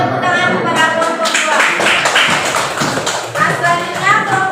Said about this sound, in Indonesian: Kita beri tepuk tangan kepada kelompok